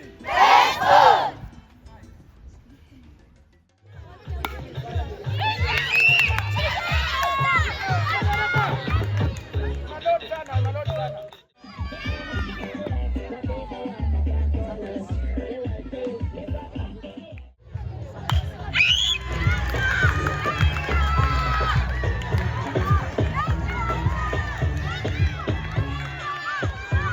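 A group of children at a baseball event in Kenya jump and scream together in loud bursts of shouting, with crowd noise, cheering and running in between, and an adult's voice heard among them.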